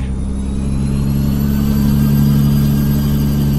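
A heavy truck with a 600 horsepower engine in Euro Truck Simulator 2 rumbles steadily at close range, a loud, deep, even engine drone holding one pitch for the whole stretch, with no talking.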